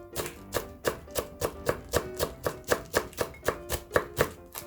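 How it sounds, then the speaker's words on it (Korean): Cabbage being chopped with a knife on a board, about fourteen crisp, evenly spaced chops in a steady brisk rhythm, close and clear with no talk. "양배추는 너무 잘지 않게 다져 주시면 될 것 같아요"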